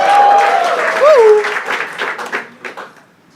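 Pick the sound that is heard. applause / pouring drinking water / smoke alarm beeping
applause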